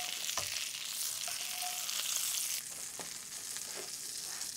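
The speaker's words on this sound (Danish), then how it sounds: "Vi tør ikke stege den mere, men egentlig så skulle den have lidt mere med det her smør og olie." A steak pan-fries in butter and oil, giving a loud, continuous crackling sizzle throughout with a few faint clinks, close up and with no talk.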